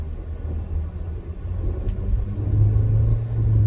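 Work truck driving by on a road, a low steady engine rumble heard from inside a vehicle, swelling slightly louder toward the end, with no talking.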